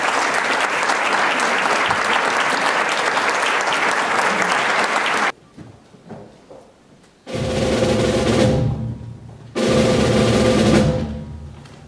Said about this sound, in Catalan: Un aplaudiment per a rebre a l'escenari a Juan Francisco Sellers Muñoz, per favor.